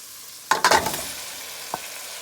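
Cassava is turned in a hot pot, giving a short cluster of close scraping stir strokes with a low sizzle underneath, followed by one lone clink.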